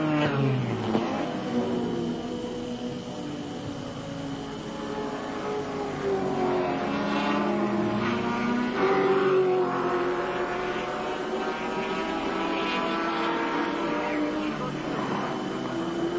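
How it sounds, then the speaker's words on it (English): A big Ford Falcon touring car from a 1983 Australian Touring Car Championship race drones steadily along the track. Its engine note rises and falls over a sustained roar, with crowd and track ambience around it. "Big Falcon, the ex-Alan Jones car, travelling fairly slowly"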